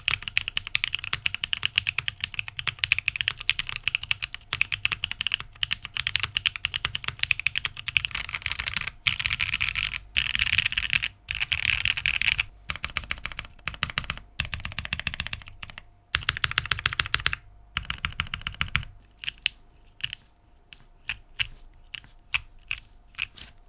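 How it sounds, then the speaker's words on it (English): Fast, continuous typing on an Arc60 custom mechanical keyboard with no foam inside, dense clacky keystrokes with occasional deeper spacebar hits, close and alone, easing into sparser taps at the end. "With no foams, the board sounds nice and full."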